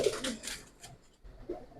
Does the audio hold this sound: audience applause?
no